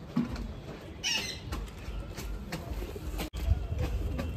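Sakdum pigeons up close give soft cooing notes, with a short burst of wing flapping and rustling movement in a coop.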